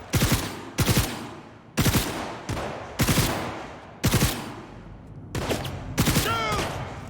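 Bursts of gunfire from the video game Cyberpunk 2077, with repeated loud rapid volleys and single sharp shots in close succession, sustained throughout with a ringing tail near the end.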